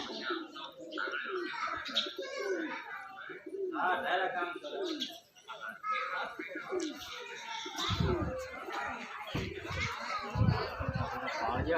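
Pigeons coo softly at a village stepwell amid chirping birds, with people talking nearby over much of the stretch.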